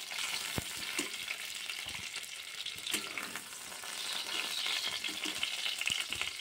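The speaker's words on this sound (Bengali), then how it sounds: "পটলগুলো ভেজে নিয়েছি বন্ধুরা। পটলগুলোও তুলে নেব।" Pointed gourd (potol) pieces fry in hot oil in a pan, giving a continuous close hiss and crackle with occasional soft stirring knocks.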